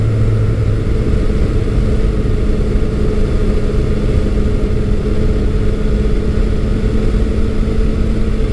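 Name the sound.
Yamaha FJ-09 motorcycle engine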